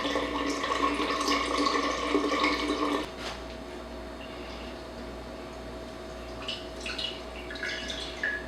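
Kombucha runs from a keg tap into cups with a steady splashing pour for about three seconds, followed by quieter drips and small clinks against a faint hum.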